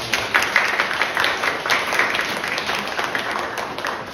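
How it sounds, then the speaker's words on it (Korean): Parents at a school academic festival receive applause, a steady dense clapping from a seated audience that holds at an even, moderately loud level throughout without talk. "부모님들께 큰 박수를 보내주셔야 됩니다. 박수 보내주십시오."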